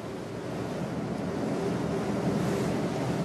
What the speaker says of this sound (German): Das Küstenmotorschiff kämpft sich gegen Wind und auflaufendes Wasser Richtung Norden.